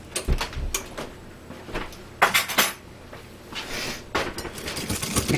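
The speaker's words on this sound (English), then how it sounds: "Mix that around really well." A spoon scrapes and knocks against a bowl while baking soda is stirred into fruit cake batter, giving irregular clinks and taps with short pauses between strokes, fairly close and moderately loud.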